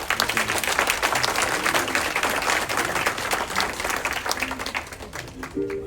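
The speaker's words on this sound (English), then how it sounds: "Yes, big round of applause." Audience at a 75th anniversary celebration for a tofu company bursts into loud, dense applause that carries on steadily, thinning slightly near the end as a few musical notes begin to sound.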